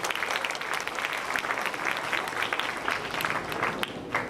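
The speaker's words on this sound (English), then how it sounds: "Can we have a huge round of applause for him?" An audience at a welcome and thanksgiving ceremony claps steadily in a sustained round of applause, moderately distant and even throughout, with no talk over it.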